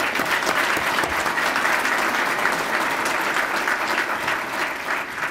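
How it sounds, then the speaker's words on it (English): Guests at a Bay Area Chamber of Commerce community luncheon give a warm, sustained round of applause for Doug Newcomb, an even wash of many hands clapping at steady volume throughout. "Could we give him a round of applause?"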